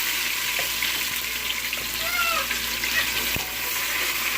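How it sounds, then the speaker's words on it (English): Vegetables fry in a pan for Guinea pepper crab, a constant close sizzling hiss with a few small clicks and knocks, no speech over it. "I'm gonna be frying the vegetables right now."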